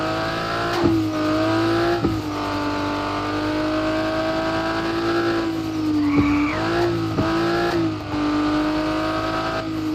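A car fitted with a drift kit slides around in Car For Sale Simulator 2023, its engine droning steadily while tires squeal loudly through repeated drifts, with a few sharp shifts in pitch.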